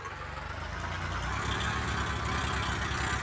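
A Swaraj 855 tractor engine in the Farming Simulator 20 video game runs steadily with a throbbing, low idle-like chug, loud and continuous with no voices over it.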